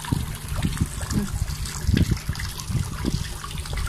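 Water flows steadily in a garden fish pond, a continuous trickling and gurgling wash with low bubbling pulses running throughout and no clear speech.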